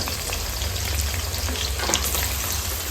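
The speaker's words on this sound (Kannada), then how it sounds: "ಎರಡು ಮೀಡಿಯಂ ಸೈಜ್ ಈರುಳ್ಳಿನ ಕಟ್ ಮಾಡಿ ಇಟ್ಕೊಂಡಿದ್ದೀನಿ. ಅದನ್ನೇ ಸೇರಿಸ್ಕೊಳ್ಳೋಣ." Two medium-sized chopped onions fry in a pan, a constant crackling sizzle like light rain on a surface, close and steady with no talking.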